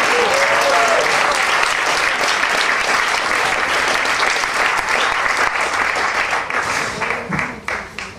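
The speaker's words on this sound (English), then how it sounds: "Keep the applause going for Ed Lowe." Audience applause for a storyteller taking the stage, a dense, steady wash of many hands clapping that holds loud and close before thinning and fading toward the end.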